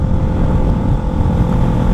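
A KTM Duke 125 motorcycle engine drones steadily while riding, a loud, continuous, rough rumble mixed with dense wind roar and no break or talk.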